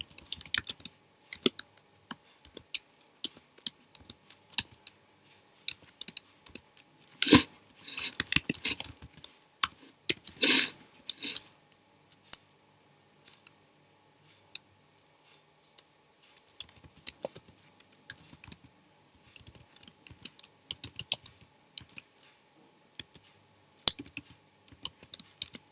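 Code being typed on a computer keyboard produces irregular bursts of close key clicks and clatter, with short pauses between flurries and no talking.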